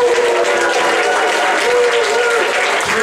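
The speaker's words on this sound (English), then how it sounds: "there's a clapping, obviously, there's stamping your feet and there's whooping" Comedy club audience practising their response, a dense burst of clapping with foot stamping and whooping cheers, loud and continuous throughout.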